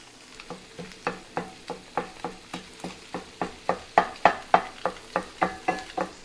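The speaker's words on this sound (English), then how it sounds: "got the block all broken up, just going through and kind of chopping the curds up a little bit" Crumbled tofu block frying in a pan while a utensil chops and stirs the curds, giving a steady run of close, rhythmic scraping strokes over a continuous sizzle, with no talking.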